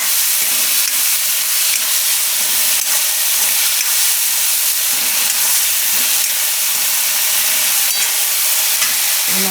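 Potatoes and peas cooking in hot oil with salt: a loud, continuous sizzle and hiss with occasional scraping as they are stirred.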